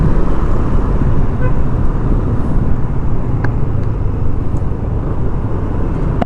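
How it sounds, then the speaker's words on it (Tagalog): Honda Click 160 scooter exhaust idling and pulling through traffic, a steady, dense engine rumble mixed with surrounding road noise, with a couple of faint higher tones; no talking. "Ang ganda ng tunog ng kanyang tambotso."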